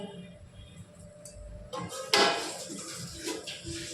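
A metal lid is set onto a pot of katla fish curry with potatoes, giving a sharp clanking clatter partway through after quieter kitchen rustling, close and fairly loud.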